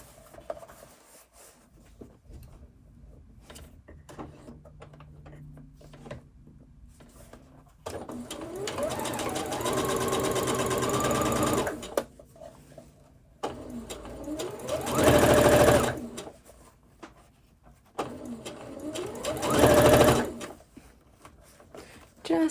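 A domestic sewing machine stitches a dress seam in bursts: a first long run, then two shorter loud runs with pauses between, each whirring buzz stopping abruptly, with quiet handling noises in the gaps.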